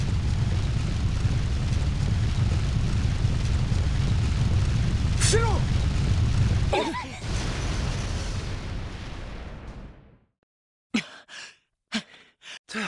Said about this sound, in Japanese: 爆発するぞ！